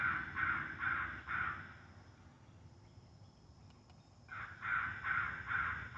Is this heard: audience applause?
no